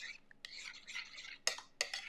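A spoon stirring mustard sauce in a pot in a home kitchen, soft scraping and swishing strokes with a few sharper clinks against the pan, close and quiet.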